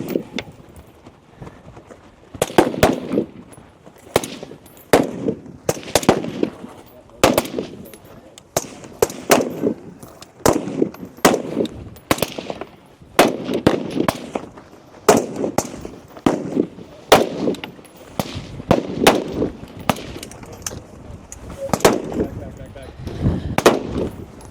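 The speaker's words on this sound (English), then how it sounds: "Kyle Martin will strike first on his pistol." Pistol gunshots at a regional shooting competition stage: sharp, loud cracks in quick irregular strings, some doubled, with brief pauses between bursts and faint talk underneath.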